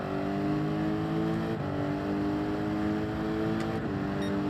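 Race car engine in the video game Gran Turismo 7 droning at a steady pitch, a continuous loud whine with layered tones and slight shifts, no talk over it.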